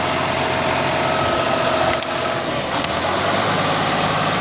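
A tractor engine runs on a farm with a steady, close, unbroken rumble and no pauses or voices.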